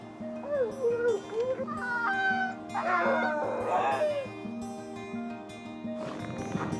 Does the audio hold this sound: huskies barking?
yes